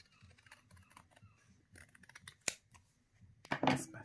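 Scissors snip through a papercraft card layer, a series of small crisp cuts close by, with quiet paper rustles between them and a louder crunch of a final cut near the end.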